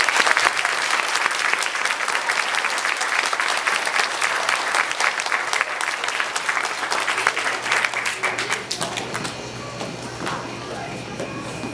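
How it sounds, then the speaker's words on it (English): An elementary school audience of children claps together in a dense, even burst of applause, close and loud, fading toward the end. "Boys and girls, can we give our helpers a round of applause, please?"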